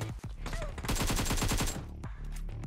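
Rapid automatic gunfire in the battle royale game PUBG Mobile, a tight burst of many quick shots followed by a few scattered single cracks, fairly close and loud with game noise around it.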